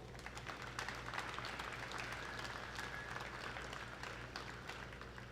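Applause from a crowd at a provincial exhibition in Fredericton, rewarding a group of kids, a steady wash of clapping at moderate distance with a low hum beneath it.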